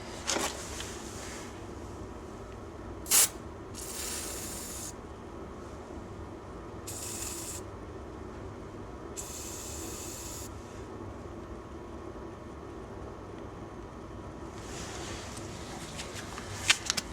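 PB Blaster penetrating oil sprayed onto a stuck driveshaft in bursts, several hissing sprays of roughly a second each over a rumbling background, along with a sharp clank and some handling noise, close and fairly loud.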